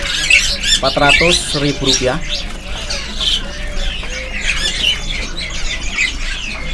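Caged birds at the Pramuka bird market squawk and chirp loudly in a dense, continuous chorus, with someone talking over the noise.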